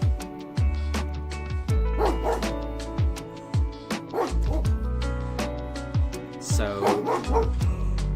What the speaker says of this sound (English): Daruk can currently hear a dog barking outside,